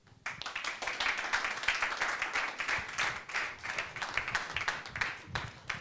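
An audience at a Not Too Young To Run forum claps together in a dense, steady round of applause that starts abruptly and carries on for several seconds, with slight swells and dips in intensity.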